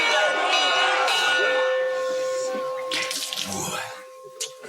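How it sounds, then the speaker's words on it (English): A bell rung during a 1997 military training session as recruits drop out, sounding as a sustained ringing tone that holds steady over a noisy background with some voices and shuffling. "we now see the use of the bell."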